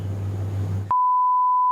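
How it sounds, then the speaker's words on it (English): A censor beep on a talk show: a brief stretch of low room murmur, then a loud, steady, pure electronic tone that switches on abruptly and holds until the end. "This will be beeped out, guys."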